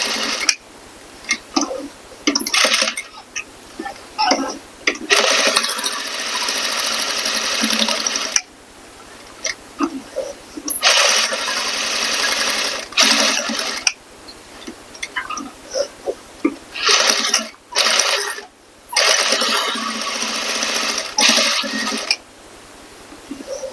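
A sewing machine stitches a corset modesty panel in loud bursts of rapid mechanical chatter broken by short pauses, including brief backstitching runs, with no voices.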